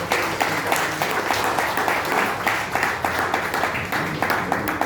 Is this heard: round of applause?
yes